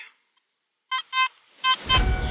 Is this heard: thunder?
no